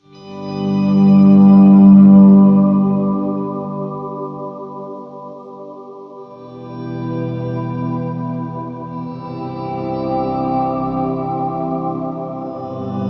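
Ambient electric guitar swells through a full effects chain with octave, chorus and reverb, two long lush chords blooming and sustaining into a dense wash, loud and close.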